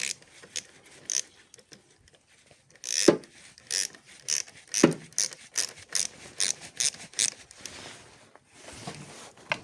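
A ratchet tightening parts on a DS3 HDi 92 car, bursts of quick clicking strokes repeated in a steady rhythm, close and crisp, with a few heavier metallic knocks and no talk.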